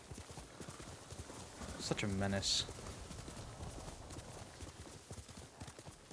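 Horse hooves clip-clop in the video game Ghost of Tsushima, a quiet rhythmic trot under game music and ambience, with a brief whinny-like sound near the middle and a person talking quietly.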